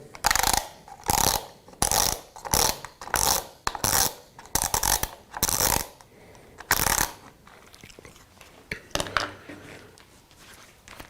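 Mechanical clicking while undoing the side cover of a Festool SSU200 sword saw, heard as a series of loud, close ratcheting bursts in a steady rhythm with short gaps, trailing off into quieter handling noise.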